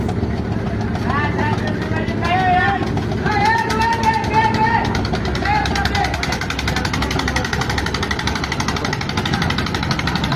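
A trawler boat's engine chugs steadily on a river during a rescue, a loud continuous rhythmic thrum with voices and other sounds mixed in over it.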